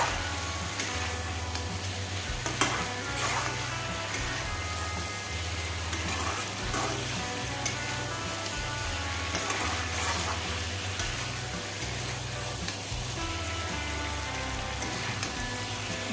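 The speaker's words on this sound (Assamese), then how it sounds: "মাংস ফ্ৰাই হৈ গ'ল ধুনীয়াকৈ" Mutton pieces fry in a pan for a mutton curry, giving a steady close sizzle with occasional stirring scrapes, continuous and without talk.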